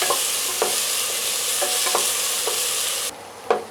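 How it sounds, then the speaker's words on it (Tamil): Onions being sautéed for a goat lungs gravy, a close, steady sizzle with rhythmic spoon scrapes against the pan, the sizzle dropping away near the end before a final knock. "நல்லா இந்த மாதிரி வதக்கி விட்டுக்கலாம்"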